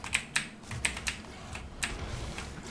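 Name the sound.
typing on an EVGA Z10 mechanical keyboard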